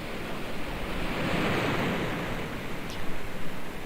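A waterfall in the Trainz railway game gives a steady, broad rushing roar that swells gently. It is fairly loud and continuous, with no talk.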